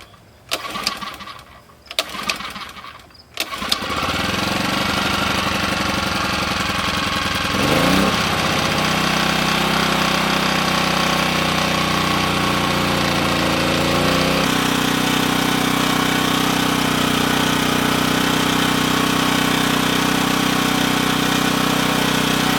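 A small gasoline engine on a fish house camper sputters, then catches and runs steadily, holding a loud, constant drone for most of the time with a brief surge partway through.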